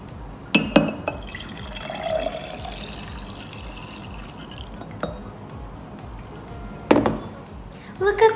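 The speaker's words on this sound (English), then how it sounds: "So now we're just gonna pour that into our favorite jar." Iced matcha latte with boba pearls pours and trickles into a glass jar, with a few sharp clinks and taps of glass along the way.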